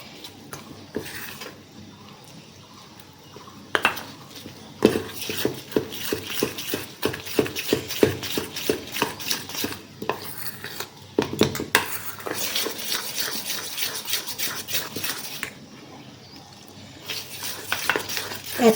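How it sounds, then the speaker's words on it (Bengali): A cake batter being whisked by hand in a bowl as milk goes in a little at a time, with quick rhythmic clinks and scrapes of the whisk against the bowl, close and steady, with brief pauses. "দিয়ে এটাকে একটু ভালো করে নেড়ে নিচ্ছি, ফেটিয়ে নিচ্ছি ভালো করে"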